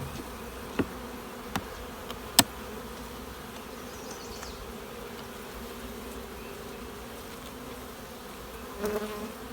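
Honey bees in a nuc hive hum faintly and steadily, with a few sharp knocks and clicks of frames scattered through.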